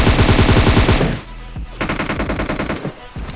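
Tommy gun firing in a video game, a loud close rapid burst of automatic fire for about a second, then more bursts of shots after a short gap, with no talk.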